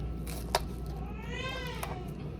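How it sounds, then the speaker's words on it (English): A baby's short wailing cry rises and falls faintly in the background over steady room noise, with a brief click just before. "As you can hear him clearly crying in the background."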